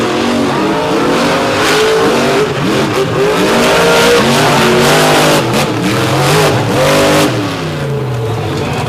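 Monster trucks race across a beach track, engines roaring loud and close with rising and falling revs as they accelerate, shifting pitch throughout the run.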